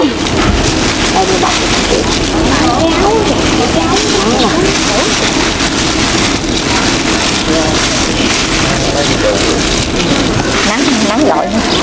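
Heavy rain pours down in a dense, constant, loud hiss that fills the whole stretch, with muffled voices faintly underneath.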